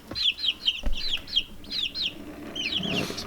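Baby chicks in a homemade brooder, a rapid series of high, clear peeps in quick repeating bursts, close and fairly loud, with a few soft bumps underneath.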